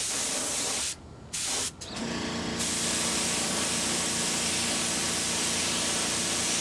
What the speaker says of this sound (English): Now I would be a lot more careful about how I'm spraying this if I were putting the last coat on